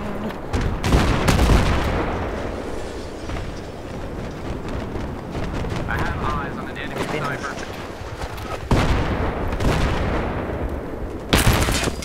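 Gunfire bursts and heavy booming explosions go off in quick succession in a Battlefield 3 multiplayer match, with voices talking over the battle noise.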